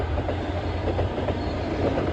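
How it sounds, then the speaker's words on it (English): An ex-LNER HST high speed train, power car 43328, passes near Finchley Road with a steady loud rumble and rhythmic clickety-clack of wheels over rail joints, continuous throughout. "It's an ex-LNER HST 43328"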